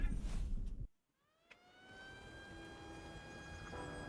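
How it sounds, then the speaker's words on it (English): Sirens wail in the video game Miasma Chronicles as a miasma storm approaches, steady rising and sustained tones after a brief silent cut, with a low ambient rumble beneath. "We've got sirens."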